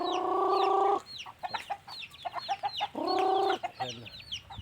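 Native chickens on a backyard poultry farm cluck up close, with sustained harmonic calls and bursts of rapid short clucks from several birds.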